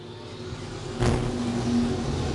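Dirt track race cars at I-35 Speedway surge off the green flag start, a sudden swell of engine roar at about one second holding loud and steady afterward.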